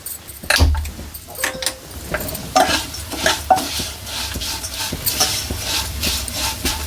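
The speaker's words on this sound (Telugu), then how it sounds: "అటుకులు నేతిలో వేయించేసి. సిమ్లోనే పెట్టుకోండి." Poha, flattened rice, frying in ghee on a low flame, a bright crackling sizzle broken by repeated metallic scrapes and clinks of a spoon stirring against the pan, fairly close and loud.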